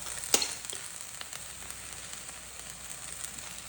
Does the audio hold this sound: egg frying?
yes